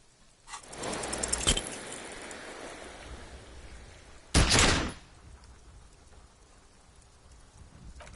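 A single pistol shot in the video game Disco Elysium, a sharp loud crack followed by a brief burst of noise, set against a steady rain-like ambient bed with no talking.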